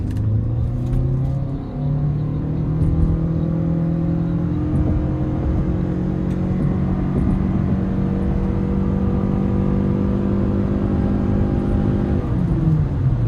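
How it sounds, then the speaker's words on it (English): A 2025 Toyota Sienna XSE minivan accelerates at full throttle, with a steady loud engine drone and whir rising gradually in pitch across a long pull, heard from inside the cabin. "I will put my foot to the floor on this because it does have some miles."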